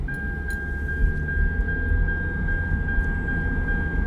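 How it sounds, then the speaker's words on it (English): A steady repeating electronic warning chime inside a 2010 Toyota Camry LE 2.5, pinging at a regular rhythm over low engine and road rumble while the car moves. "I'm just going to have to deal with that stupid chiming for like 2 seconds"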